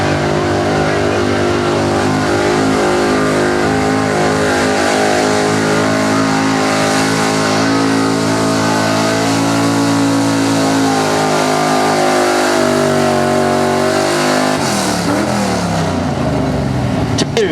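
A 1982 Chevrolet small block 4x4 pulling truck at a truck pull roars under heavy, sustained engine load, loud and close, with pitch climbing and shifting near the end; a voice talks over it.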